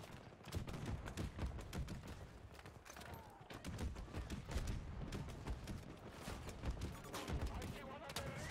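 Rapid gunfire in Battlefield 2042, dense bursts of shots and thuds running steadily through the whole stretch, with voices faintly mixed in.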